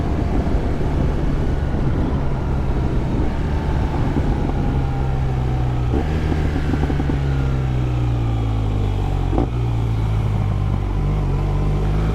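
A 2016 BMW R1200R motorcycle engine drones steadily and close while riding, its tone shifting with gear changes and throttle, with wind noise over it throughout.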